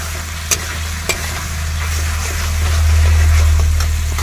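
Tomatoes frying in oil with masala for a chicken curry, a steady close sizzle with occasional stirring scrapes and two sharp clicks early on, swelling louder toward the end.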